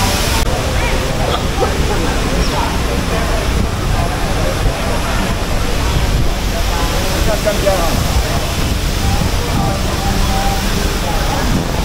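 Steady broadband rushing roar of a waterfall on a walk in Taiwan, continuous and fairly loud throughout with no clear breaks.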